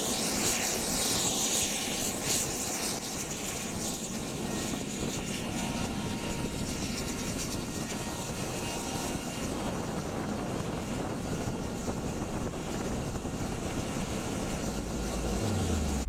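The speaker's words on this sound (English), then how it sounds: "This is the MV-22 Osprey, which can transform from a helicopter into a plane." An MV-22 Osprey tiltrotor aircraft gives off a dense, loud, unbroken roar of rotor and engine noise with a broadband wash, heavy low rumble and some wind buffeting, holding steady throughout.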